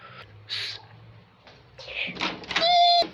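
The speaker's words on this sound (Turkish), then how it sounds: "şimdi kapıyı açacağım" A door opens in a home bathroom setting, a short clunk and slide at the start, followed by scattered bumps and movement with a brief high whistling tone near the end.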